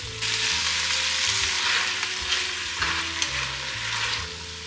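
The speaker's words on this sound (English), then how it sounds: "I'm gonna toss in my tomato and red pepper and just let these cook down." Tomato and red pepper cook down in a pan for a white bean ratatouille, giving a steady close sizzle and hiss under faint background hum, with no one talking.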